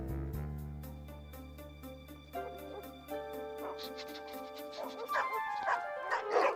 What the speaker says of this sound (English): Dog! I mean, dogs.